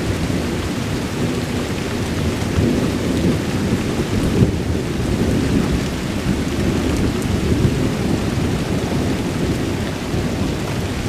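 Steady rain pours through a thunderstorm in the Chicago area in late February, with low rolling thunder rumbling continuously beneath a dense wash of rainfall, loud and close throughout.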